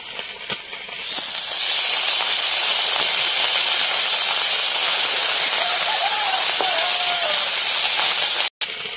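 Small mourala fish fry in hot oil, giving a steady, loud sizzling hiss that starts after a quieter second and carries on alone, broken by one brief cut near the end.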